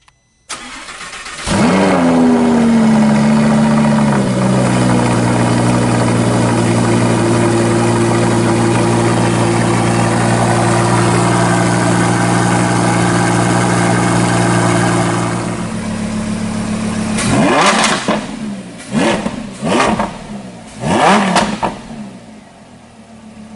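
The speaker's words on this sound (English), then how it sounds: "I'll talk to the guy and have him turn on the engine for you." A 2015 Lamborghini Huracan starting up: a sharp crank and bark, then a loud, steady idle for over ten seconds, followed by a series of hard, quick throttle blips revving the engine close by.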